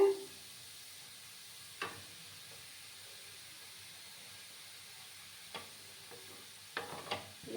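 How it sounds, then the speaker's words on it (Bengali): Grated bottle gourd (lauki) fries in ghee for payesh with a soft, steady hiss, punctuated by a few brief spoon strokes against the pan. "কিছুক্ষণ সময় নিয়ে এলাউটাকে ভেজে নিচ্ছি"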